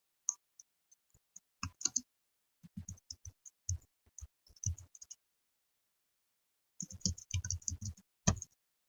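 Typing on a computer keyboard: quiet, close clicks in irregular bursts of keystrokes separated by pauses, including a long silent gap before a final flurry, no voices.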